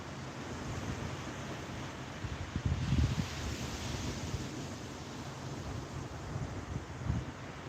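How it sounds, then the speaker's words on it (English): Water washes steadily at a beach at night, a continuous broad rush with faint swells, close and moderately loud, mixed with light wind, no talk. "I like sitting out here and listening at the water."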